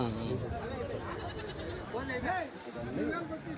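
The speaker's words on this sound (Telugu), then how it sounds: "జత మేకలు పిల్లలు" Goats bleat at a crowded livestock market held in Kadiri ahead of Bakrid, several wavering calls rising over dense crowd chatter and bargaining voices throughout.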